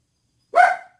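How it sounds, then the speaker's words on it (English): A single dog bark rings out at home, one short, sharp, fairly loud bark following silence, ending quickly with no other sound. "The dogs may start barking."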